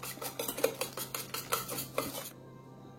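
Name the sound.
mixing eggs into Spartak cake batter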